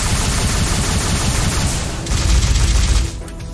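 Missiles launching in the flying game Silverwing, a dense, loud roaring barrage of rapid blasts that swells and then drops off near the end, with no talking.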